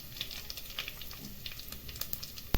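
Sugar, dried red chillies, bay leaf and grated mace frying in hot oil for Champaran handi mutton, a steady close sizzle with small crackles and pops throughout and a sharper clatter near the end.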